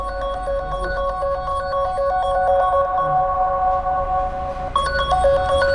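A mobile phone rings loudly after being triggered remotely through Find My Device, its melodic ringtone looping steadily for several seconds with no voices over it.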